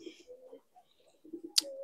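Domestic pigeons, including a pair sitting on eggs, give soft, low, close coos in short phrases with brief pauses, followed by a sharp click near the end.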